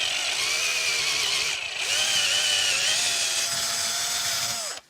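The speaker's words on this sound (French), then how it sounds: "Je prends ici en diagonale en haut et je perce." A power drill bores diagonally into wood for a high chair, a loud high whine that dips once briefly, resumes, then cuts off at the end.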